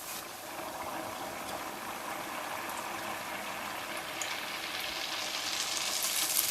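Youtiao dough sticks frying in oil heated to seventy or eighty percent, a steady close bubbling hiss that holds level and swells a little louder toward the end, with no voices.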